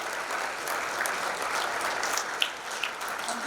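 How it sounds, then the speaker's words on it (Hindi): Steady, dense audience applause at an awards ceremony, continuous and fairly loud throughout with a couple of sharper claps standing out. "जोरदार तालियों की गड़गड़ाहट रुकनी नहीं चाहिए बिल्कुल भी।"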